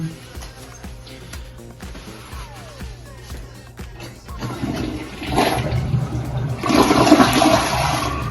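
A toilet in Canada flushes loudly and close, a clicking lead-in giving way to a rising rush and swirl of water that peaks near the end.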